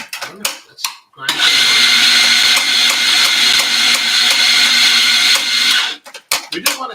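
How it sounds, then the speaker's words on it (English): A coffee grinder grinds beans in a loud, steady whirring burst of about five seconds, with brief clatter and handling sounds before and after. "Let's grind"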